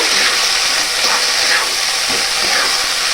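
Rice and fish-head mixture for muri ghanto is stirred in a hot pan, a loud continuous sizzling hiss with faint scraping strokes underneath.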